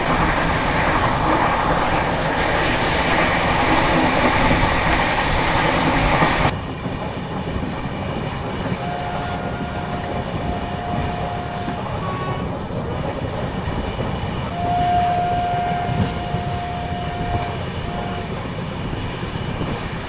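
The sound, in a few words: Tamil Nadu Superfast Express train running at speed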